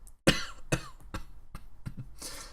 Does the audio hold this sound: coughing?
yes